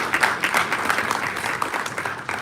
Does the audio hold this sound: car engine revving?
no